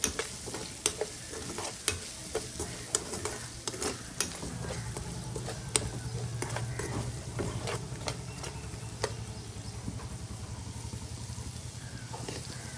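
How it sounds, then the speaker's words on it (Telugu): Coriander powder and garam masala frying for tomato charu, a continuous close sizzle broken by repeated sharp taps and scrapes of a spoon stirring in the pan, with no voices. "ధనియాల పొడి కొద్దిగా గరం మసాలా వీటన్నిటిని పచ్చి వాసన పోయేంత వరకు దూరంగా వేయించుకోవాలి"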